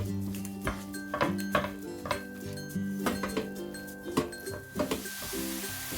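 A spoon scrapes and clinks repeatedly against a pan while sweet coconut filling for fried bread is stirred, an uneven close rhythm of metallic knocks with a faint steady tone behind and no talk.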